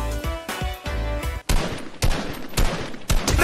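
Loud, close gunfire from the video game Fortnite comes in rapid overlapping bursts of shots, with a sharp burst of several cracks marking a change of weapon partway through.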